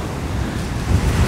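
Surf rolls onto the Molodezhny beach at Golubitskaya on a stormy day, a steady roar of breaking sea waves mixed with gusty wind buffeting the microphone, with no voices.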